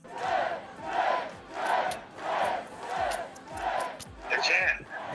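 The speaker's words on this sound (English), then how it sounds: "You hear the chant." A stadium crowd at a Colorado football game chants in a steady rhythmic cadence, about seven loud swelling pulses roughly a second apart, with a brief sharper cheer near the end.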